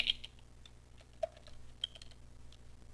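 Fingers type on a computer keyboard, a quiet, uneven run of light clicks and taps with a few sharper keystrokes, close and alone with no talking.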